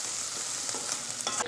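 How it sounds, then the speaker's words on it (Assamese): Onions frying in a pan with ginger-garlic paste and bhut jolokia chili for an Assamese egg recipe. A steady close sizzle runs throughout, with stirring scrapes and a louder burst of frying near the end. "ইয়াতে দিম এতিয়া আদা নহৰু পেষ্ট, ভোট জলকীয়া অকণমান ৰঙচুৱালৈকে ভাজি লওঁ।"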